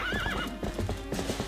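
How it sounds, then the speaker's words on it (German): The horse Epona from the video game Zelda Twilight Princess clip-clops at a gallop with a high whinny at the start. The clip is short and fairly quiet, with a quick rhythmic run of hoofbeats and no talk. "das Pferd heißt immer Epona."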